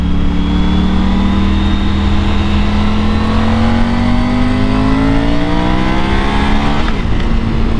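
A 2021 Triumph Tiger GT Pro motorcycle engine pulls steadily in third gear, its loud, close whine climbing smoothly in pitch for several seconds before a brief shift-like break near the end.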